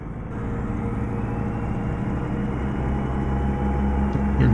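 A truck engine in American Truck Simulator runs with a steady, close, low droning rumble and no voices, its loudness holding even before rising slightly at the very end.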